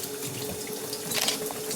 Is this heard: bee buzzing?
no